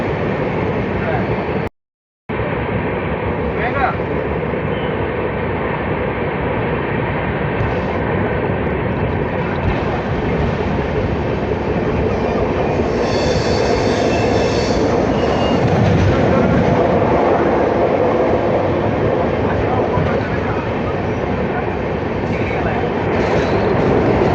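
The Tinsukia–Bengaluru Express crossing the rail-cum-road bridge over the Godavari river near Rajahmundry, heard from on board as a loud, continuous rumble and rattle of the wheels that lasts the whole stretch.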